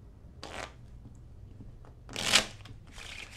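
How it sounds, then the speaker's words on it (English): A deck of playing cards shuffled up close in a few short riffling bursts, the loudest burst near the end, with quiet gaps between and no talking. "The cards are completely shuffled and mixed by any random participant."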